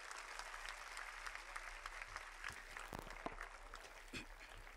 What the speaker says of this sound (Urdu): زوردار تالیوں سے استقبال کریے